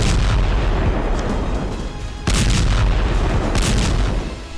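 Heavy bombardment explosions strike Khan Younis in Gaza, heard as repeated booming blasts and a sharp loud impact midway, rolling and rumbling continuously without any voices.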